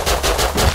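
Rapid gunfire from a pistol in the survival video game Rust, several loud shots in quick succession with no talking over them.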